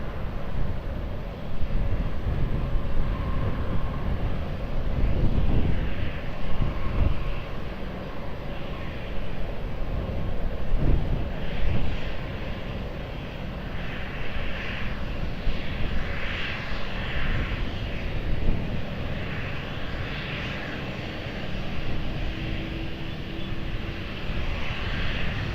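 An airliner on approach to land on runway 20 at Lisbon Airport, a continuous broad engine roar with wind buffeting, steady and fairly loud over the whole stretch.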